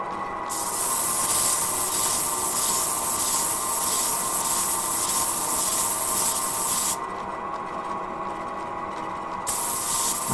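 Gemstone cabochons are ground on a high-grit wheel, producing a steady, loud, hissing abrasive rasp with a pulsing texture. It dips briefly midway and then resumes, with no talking.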